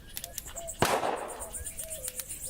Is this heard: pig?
no